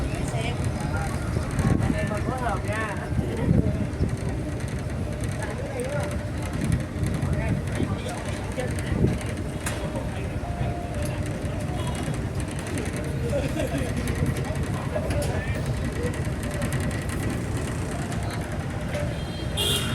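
Dense street traffic in Saigon, Vietnam, with a steady drone of small motor engines, scooters buzzing past close by, and people talking over the constant noise.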